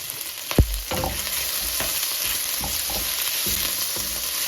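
Onion and shallots sizzle steadily in a hot stir fry pan, a constant crackling hiss punctuated by soft knocks and scrapes of stirring, close and alone.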